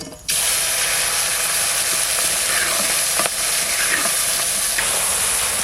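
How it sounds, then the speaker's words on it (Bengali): Fish drops into hot mustard oil with dried chilli and cumin, setting off a sudden loud, dense sizzle that roars on steadily and close, with a few scraping stirs and no talk. "কড়াই গরম হয়ে গেছে সর্ষের তেল শুকনো লঙ্কা জিরে এবার মাছটা দিয়ে দেবে"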